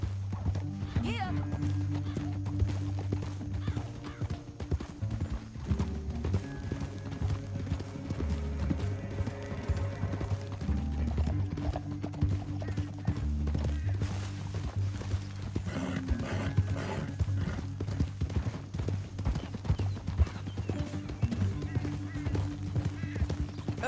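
Horse hooves clip-clop steadily at a walking pace while riding in Red Dead Redemption 2, close and continuous, with an occasional whinny and character voices talking over the hoofbeats alongside a low musical score.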